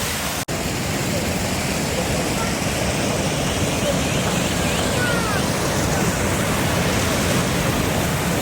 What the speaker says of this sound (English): Yeah, it's the next waterfall.